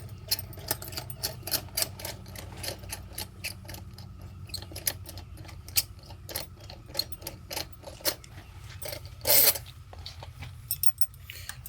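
A ratchet works a bolt loose on pool equipment, a long run of quick close clicking with occasional louder knocks and a brief scraping burst near the end, over a low background hum.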